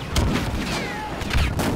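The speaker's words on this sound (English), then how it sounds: "I just got an ion cannon on it." Ion cannon fire in a Star Wars Battlefront Walker Assault battle: two loud booming shots about a second apart, each with a crackling tail, with whining energy sweeps and rumble between them.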